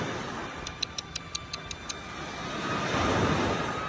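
A small DJI Neo drone flies nearby outdoors in follow-me mode, heard as a steady whirring motor hum that swells slightly louder near the end, with a series of about eight quick ticking clicks early on.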